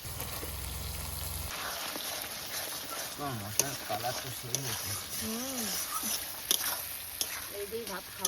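Spices with salt, turmeric and tomato are sautéed in a pan while cooking a large country rooster, giving a steady close sizzle and frying hiss beneath a person talking throughout.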